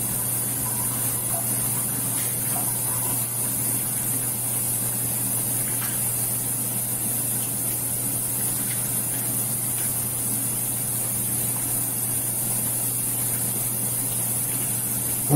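Hands being washed with soap and rinsed under running water at a sink, a steady, unbroken hiss of flowing water lasting the whole stretch, close and even in level, with no talking.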